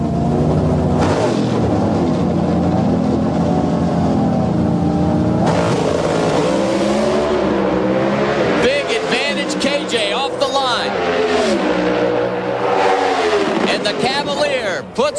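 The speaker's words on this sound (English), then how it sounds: "Out on the starting line, meanwhile, Alan Johnson and Kurt Johnson are going to decide who's going to the semifinals" Pro Stock drag race cars at a 2003 NHRA event, a loud continuous engine roar with rising and falling revs and crowd noise behind, while an announcer talks throughout.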